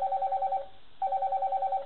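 Repeating electronic ringback trill from a snom 360 softphone placing an outgoing call, two clean bursts of rapid pulsing tone separated by a short gap, clear and alone.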